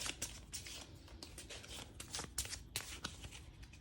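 Cards from a Resident Evil 2 board game are riffled and shuffled in quick, crisp bursts, close by and fairly quiet, with no talking.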